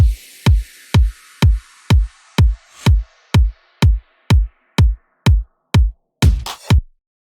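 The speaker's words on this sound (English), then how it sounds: "It's basically just a kick with some perks and some sweeps," Future house drop drums: a punchy kick thumps in a steady four-on-the-floor pulse, about thirteen hits, with light percussion and a rising sweep wash on top, ending in a short fill.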